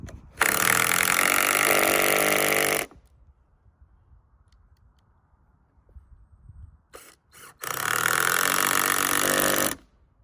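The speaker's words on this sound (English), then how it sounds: "we're just gonna add 4 more screws, 2 more on each board" Two long bursts of a power driver whining as screws are sunk into 2x12 lumber boards for a hoop house greenhouse, each lasting a couple of seconds, with quiet handling and clicks between.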